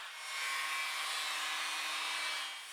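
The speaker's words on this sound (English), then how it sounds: "So out came the angle grinder to fix that problem." An angle grinder trims the header panel of a Jeep XJ Cherokee, giving a steady, hissing, rushing grind that swells slightly and then eases off over a few seconds, heard alone.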